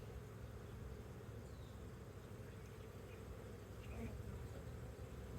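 Steady, dense buzzing of many honeybees swarming around an opened hive outdoors, a continuous low drone that holds at an even level throughout.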